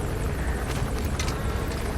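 A helicopter flies in the video game Metal Gear Solid V: The Phantom Pain, giving a steady, fairly quiet whirring drone with no breaks over a couple of seconds.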